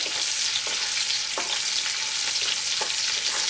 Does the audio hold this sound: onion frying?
yes